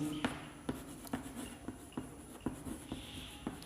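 Numbers being written during a class lesson: a quick series of sharp, faint taps and scratches from a pen or chalk, about nine strokes in a loose rhythm, quiet and close.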